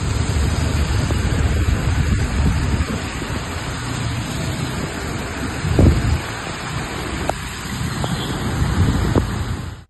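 Heavy rain with thunder and lightning over Hyderabad, a dense, loud, continuous wash of downpour with a few deeper rumbling bursts, likely thunder, rising through the steady roar.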